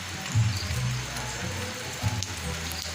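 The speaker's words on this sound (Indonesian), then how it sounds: "Aduh, hujan-hujan Kang Bos. Hujan malam." Night rain patters softly and evenly on a surface, a faint steady hiss with a few low thumps.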